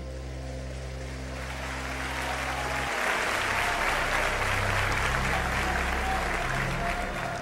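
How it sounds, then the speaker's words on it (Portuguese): Church congregation applauds during a service, a broad sustained wash of clapping that swells and stays steady, with a held low organ-like tone fading out in the first seconds. "os que podem, tomem o seu assento, aplaudindo a Jesus porque Ele é bom."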